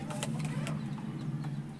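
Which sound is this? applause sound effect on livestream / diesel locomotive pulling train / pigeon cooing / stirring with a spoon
pigeon cooing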